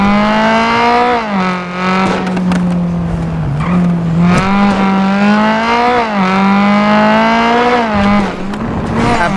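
A car engine in the GTA video game revs repeatedly, rising and falling in pitch through a series of loud, close accelerations with no talk over it.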